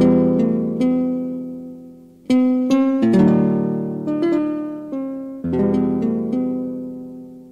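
A guitar voice on a Wersi Arcus CD45 home keyboard plays a short phrase of plucked notes and chords, each decaying cleanly, with brief pauses between groups and no talking.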